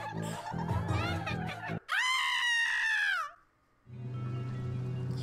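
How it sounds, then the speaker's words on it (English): A shrill, wavering cartoon scream from Happy Tree Friends, loud and sustained for over a second, between stretches of other noisy cartoon sound. "It's a random scream."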